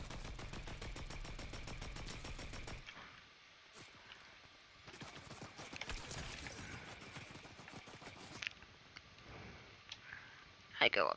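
A light machine gun fires in Fortnite in rapid, dense bursts of close shots, then falls briefly quieter before further firing resumes, with clicks and a voice heard at times.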